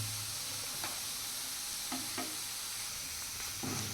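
Spices frying for dal fry sizzle softly and steadily, with a few quiet scraping clicks from a spoon stirring the pan.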